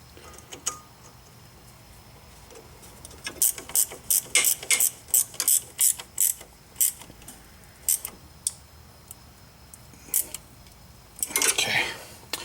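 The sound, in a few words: ratchet tightening strut bolts on a 2005 Chrysler Town & Country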